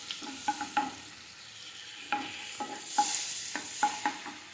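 Masala fries in butter and oil for a spicy egg curry while a spatula scrapes and stirs the pan in irregular bursts over a low, steady sizzle, close and without speech.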